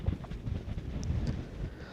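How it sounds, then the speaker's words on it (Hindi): Wind gusts across the white sand desert of White Sands, New Mexico, a steady low buffeting rumble pressing against the microphone. "और ये हवा चल रही है"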